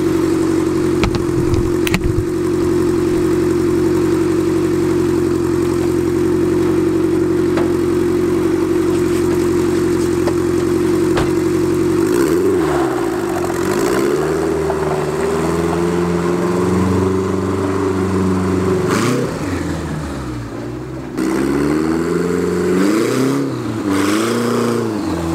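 A quad-turbo Honda Civic fitted with tracks drives down a road, its engine droning loudly and steadily at first, then rising and falling in pitch as it revs and shifts, close and continuous throughout with no talking.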